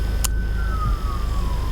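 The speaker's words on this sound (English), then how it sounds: "emergency vehicle" An emergency vehicle siren passes while driving through city traffic, a single tone gliding downward at moderate distance over the steady rumble of the car's engine and road noise.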